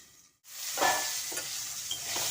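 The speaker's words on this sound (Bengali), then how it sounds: "ঢাকনাটা খুলে একটু নাড়াচাড়া করে দিলাম" Potatoes fry in a pan as a lid comes off and they are stirred, a quiet steady sizzle with a few soft scraping strokes after a brief hush.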